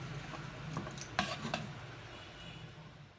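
Spaghetti noodles tossed and mixed with tongs in a pan after sautéing with spices, giving soft sizzling and stirring scrapes with a few brief clicks of the tongs, fairly quiet throughout.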